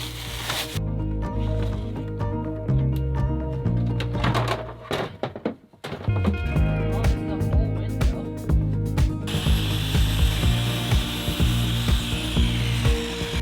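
Wooden planks are cut inside a van while the bed area is widened, with steady rasping saw strokes, a brief pause midway, then harsher continuous cutting, loud and close.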